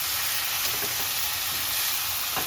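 Fried vegetables, jackfruit, potato and paneer, are stirred into spiced masala in a hot pan for veg biryani, giving a steady close sizzle with soft scraping stir sounds; no talking.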